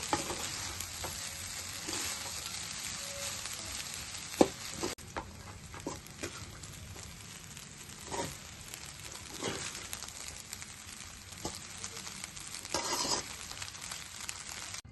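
Rice for gobi fried rice is stir-fried in a hot pan, with a continuous sizzle broken by repeated scrapes and knocks of a spatula tossing and mixing it.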